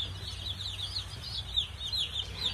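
Young Cornish Cross chicks peep in quick high chirps close by, with soft clucking-like calls over a low steady background hum.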